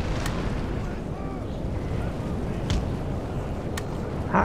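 Cannon fire and explosions in the video game Napoleon: Total War, a heavy rumbling battle din with a few sharp blasts cutting through.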